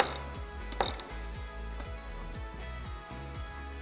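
A ratchet clicks steadily in quick repeated strokes while tightening anodes on a Yamaha F150 outboard, close and fairly even in rhythm with brief pauses.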